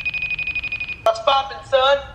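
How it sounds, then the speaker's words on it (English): A phone rings repeatedly in steady short pulses while a call is placed, then voices break in over it. "I wanted to make a phone call to Wampa and tell him that he is about to get kicked out"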